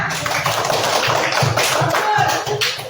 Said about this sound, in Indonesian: beri tepuk tangan dulu ke temannya